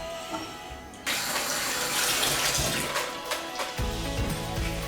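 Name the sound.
dumplings boiling in water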